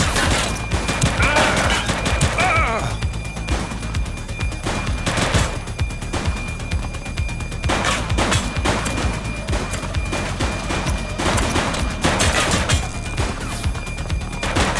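Dense gunfire crackles through a police shootout in the video game The Precinct: loud, overlapping volleys and bursts of automatic fire keep up almost without pause, with sharp crashes mixed in.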